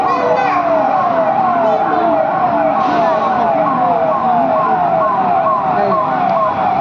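Several fire brigade vehicles pass through Kharghar with sirens sweeping up and down continuously, loud and close over a low engine rumble.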